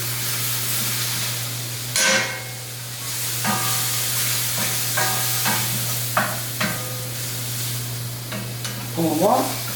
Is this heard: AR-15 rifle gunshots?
no